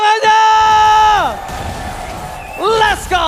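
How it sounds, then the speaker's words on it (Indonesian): An arena crowd at an MPL esports match cheers in bursts, with a loud amplified caster voice on top and a brief swell of crowd noise between the calls. "Oke, itu dia semangat dari MPL Arena."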